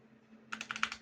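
Keys on a SteelSeries Apex Pro Gen 3 keyboard with OmniPoint 3.0 magnetic switches are tapped in a quick burst of about six crisp clicks, close and moderately loud, after a half-second of near silence with a low hum.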